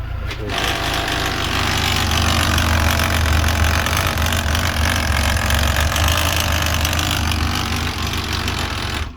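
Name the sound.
Yamaha FJR 1300 motorcycle transmission noise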